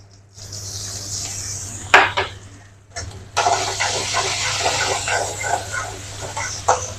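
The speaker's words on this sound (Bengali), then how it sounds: "অল্প লাল করে ভেজে নেব" Chopped onion frying in a pan gives a continuous, moderately loud sizzling hiss, broken by a few sharper clinks and stirring knocks.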